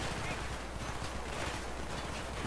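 Gunfire in the video game Battlefield 3, a dense, continuous rattle of distant shots and bursts throughout, with faint voices mixed beneath the steady battle noise.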